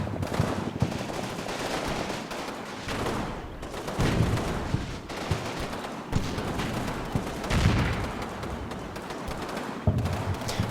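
Enemy mortars shell positions in Combat Mission: Battle for Normandy, with repeated dull thuds and blasts rolling in from a distance. Scattered gunfire crackles through the whole stretch.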